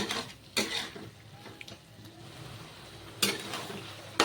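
Green tomato chorchori stirred in a pan, with a few scraping bursts of the spoon against metal over a soft simmer, spaced apart and fairly close.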